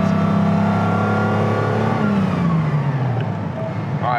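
Engine of a 1956 Mercedes 300SL Gullwing, heard loud and close from inside the car, with a steady low drone and a slight drop in pitch as the revs ease off, no talking.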